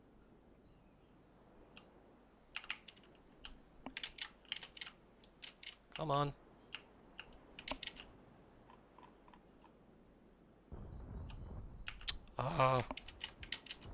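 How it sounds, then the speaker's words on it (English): Computer keyboard typing during a PC naval combat game session comes in scattered bursts of sharp key clicks and rattles, some rapid and clustered, over a quiet background. A voice briefly speaks. "Keyboard. Keyboard."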